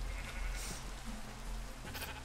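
Sheep bleat in Minecraft during pen building, a short quiet burst of blocky game bleats without any talk.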